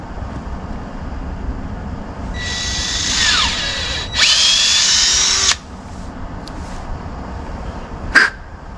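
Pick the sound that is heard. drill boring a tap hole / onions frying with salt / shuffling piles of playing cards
drill boring a tap hole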